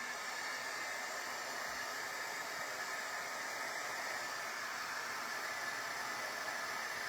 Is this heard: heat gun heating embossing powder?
yes